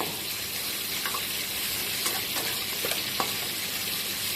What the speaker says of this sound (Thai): เราไข่ลงแล้วเราก็ต้องตีให้มันเข้าๆกันหน่อยนะคะกับหอยเชลโป